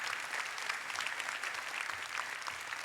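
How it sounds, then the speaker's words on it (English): Applause fills a graduation class night ceremony as an audience honors senior award recipients, a steady, even wash of many hands clapping at moderate volume. "A round of applause for our senior capstone recipients of the capstone"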